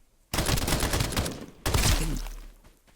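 Two loud, close bursts of rapid automatic gunfire ring out in the Escape from Duckov video game, each burst a dense rattle that tails off, the second followed by a low rumbling decay.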